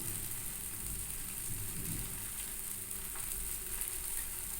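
Ridge gourd with turmeric and salt stir-fried in a pan over a medium flame, giving a soft, steady, rain-like sizzle that stays faint and even throughout.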